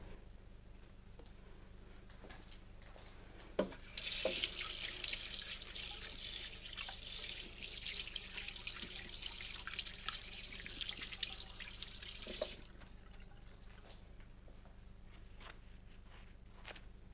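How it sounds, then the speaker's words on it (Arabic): Hands washed under a running kitchen sink tap after kneading dough, a steady hiss of flowing water for about eight seconds, with faint handling clatter before and after, no talk. "غادي نغسل يدي ونكمل"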